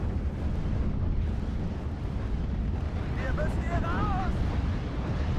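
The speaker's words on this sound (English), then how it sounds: "Panzerwerfer is still being used in the town." Panzerwerfer rocket artillery in the WWII strategy game Steel Division: Normandy 44, fired in a town at Carpiquet, rolls as a constant heavy roar, with faint rising whistles from rockets streaking overhead midway through.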